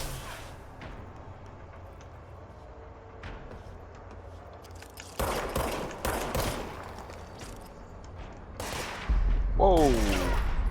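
Gunfire in the video game Control comes as a few sharp bursts, louder toward the end, over quiet game ambience.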